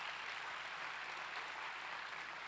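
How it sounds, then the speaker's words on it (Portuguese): Congregation clapping in a church service, a steady dense wash of applause that fills the whole moment at moderate level with no voices on top. "dar uma salva de palmas ao Senhor"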